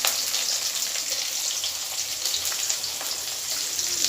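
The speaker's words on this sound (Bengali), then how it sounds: "পেঁয়াজ, রসুন, টমেটো ভাজা ভাজা হয়ে গেছে" Onion, garlic and tomato frying in a pan give a steady, close crackling sizzle, dense and even throughout with faint popping and no talk.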